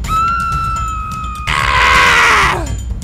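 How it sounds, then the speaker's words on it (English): A long, loud, piercing scream in the Roblox werewolf Riding Hood story game, rising into a harsh, noisy shriek that trails off downward, with no talk over it. "Did you hear that scream?"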